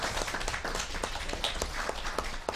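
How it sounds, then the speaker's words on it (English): A student union leadership election debate audience gives a round of applause for a presidential candidate, dense steady clapping from a crowd throughout, fairly distant. "Can we have a round of applause for our president candidate?"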